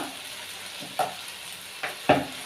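Onion, tomato and masala powders sizzling in a pan while being stirred, a steady low sizzle broken by three brief scraping strokes of a spoon, close and moderately loud.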